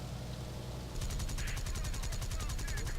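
Aircraft cannons fire in the War Thunder combat flight game, a rapid, evenly spaced burst of loud shots that starts abruptly and continues steadily over the engine drone.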